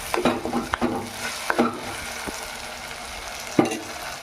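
Chicken stir-frying in a pan for a restaurant-style chicken curry, with a close steady sizzle broken by sharp clacks of a spoon stirring against the pan.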